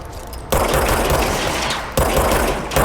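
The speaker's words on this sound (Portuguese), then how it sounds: "ela tá atirando na parede" Enemy gunfire striking a wall in the game Control, loud sustained volleys of shots in two long bursts with a short lull between, close and dense, no talk.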